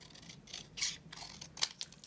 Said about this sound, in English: I'm just going to use scissors and hope that I get it as straight as I need it